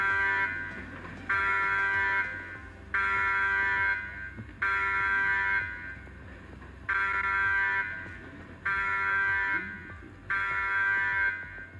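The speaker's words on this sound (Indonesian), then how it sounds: "Jadi saat orang tidak dikenal masuk ke dalam ruangan, maka alarm akan bunyi." A room alarm set off when an unknown person walks in, some with and some without masks, repeating a loud buzzing electronic tone in seven even pulses about 1.5 seconds apart, each fading slightly before the next.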